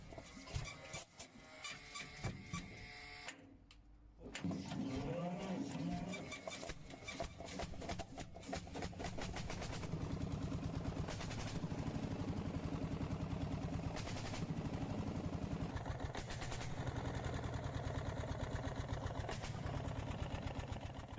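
A 1956 Lanz Bulldog D-Series tractor with a 6.2-liter hot bulb engine cold starting at 5°C without its exhaust manifold: rapid mechanical knocking and clatter, a brief pause, then a steady loud rhythmic chugging idle.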